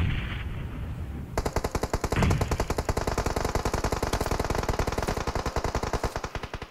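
Automatic gunfire in a battle royale mobile game: after a quieter opening, a long rapid burst of evenly spaced shots rattles on loudly and continuously to the end.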